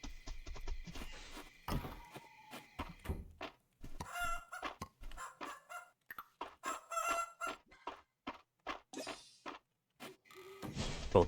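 Hens in a farming video game cluck and crow in short repeated bursts, a busy stream of bird calls at moderate volume with no talking.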